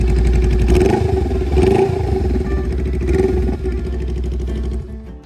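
A 2017 Honda Rebel 500 customized as a bobber, with about 41,000 km on it, idles steadily nearby with a loud, even, throbbing engine note that eases slightly before fading at the end.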